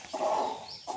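A hen that has just hatched a brood of chicks clucks in a short close burst, then goes quiet and gives a brief call again near the end.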